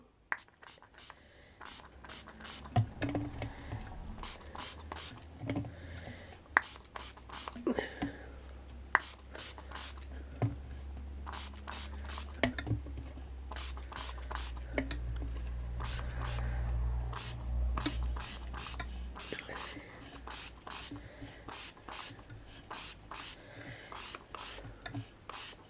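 Short bursts of spray are applied onto a mixed media altered vase, with repeated crisp hissing puffs over a low background rumble.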